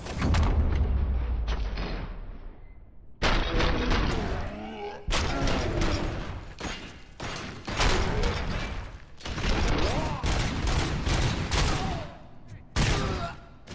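Rapid bursts of gunfire from the video game Robocop: Rogue City, loud and repeated in several volleys with brief gaps, layered with mechanical clatter and some voice chatter.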